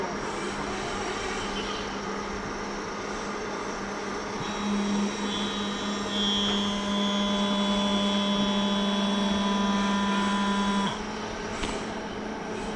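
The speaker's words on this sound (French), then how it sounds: "le petit moteur qui fait le vide dans la cloche" A small electric vacuum pump motor evacuating a bell jar hums steadily with a tonal whine, starting partway through and running several seconds before stopping, over a quiet background.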